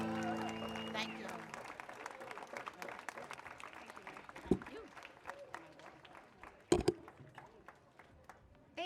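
Scattered, fairly quiet audience clapping follows a singer at a One Billion Rising For Justice live event in Santa Fe, starting over a fading held musical note, with a couple of louder claps or knocks standing out.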